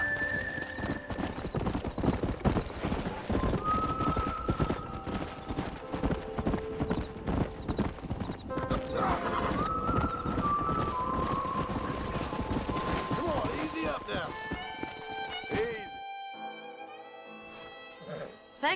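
Horse hooves clip-clop steadily in a Red Dead Redemption ranch scene, with whinnies, scattered distant gunfire and game music running throughout, before the hoofbeats drop away into near silence at the end.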